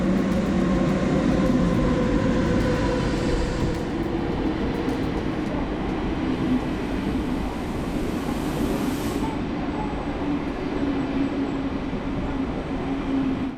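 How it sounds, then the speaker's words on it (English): Rumbling ride inside a Swiss train bound for Grindelwald, steady low rolling of wheels on rails with faint clatter and a brief hiss midway, continuous and close throughout without voices. "we've made it on our first train in Switzerland."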